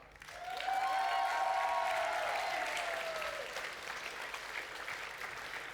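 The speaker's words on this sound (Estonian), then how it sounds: "Aplaus teile." Warm, full applause from a school audience at the MURG Playbox 2024 event, rising quickly and staying steady and close, with a long whistle or cheer riding over it during the first few seconds.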